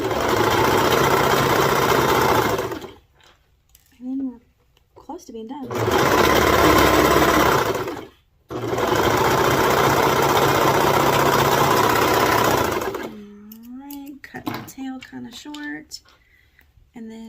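A sewing machine whirs loudly and close in three long runs, stitching a small cuff onto a baby bodysuit, with a person talking in the pauses between runs.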